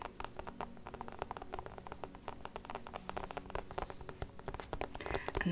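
Soft, rapid fingertip tapping during an ASMR spa scalp and face massage, a quiet, steady patter of many light taps that resembles raindrops, with no talking.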